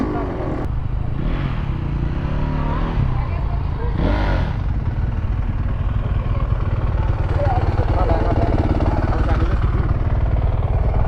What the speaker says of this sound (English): Turn your bike off.